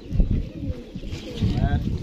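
Low, throaty pigeon coos repeat close by, mixed with rustling and a busy, muffled background.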